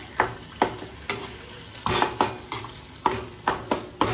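Boiled potatoes being stirred in a pan, with sharp scraping strokes of the spoon coming in uneven bursts over a low sizzle, close and without talk.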